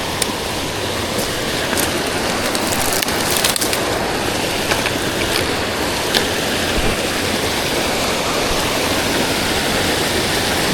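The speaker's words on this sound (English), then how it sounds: "Another creek crossing." A high-running spring creek on a northern BC trail crossing gives a loud, continuous, close rush of water, with scattered faint crackles and splashes over the steady roar.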